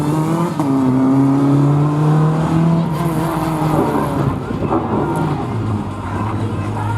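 A race car runs a slalom course at Lessay, its engine loud and close, revving and shifting pitch as it accelerates through the gates with a sustained, strained drone.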